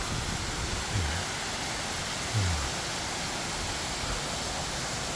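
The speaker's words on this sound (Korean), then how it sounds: "와 입구에 물소리가 좋네요" Steady, even rush of water flowing at a temple entrance on Buramsan mountain, broadband and constant, with a couple of faint low thumps partway through and no talk.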